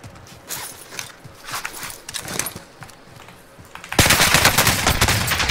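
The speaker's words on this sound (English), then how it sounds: "Oh, shots." Gunfire in a first-person shooter: scattered sharp shots come first, then a dense sustained burst of rapid automatic fire takes over and grows loud and continuous toward the end, with no talking.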